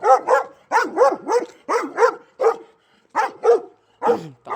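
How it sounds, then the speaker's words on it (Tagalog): A big dog barks in loud, close bursts, mostly paired woofs with short pauses between them, clear against a quiet background. "Malaking aso."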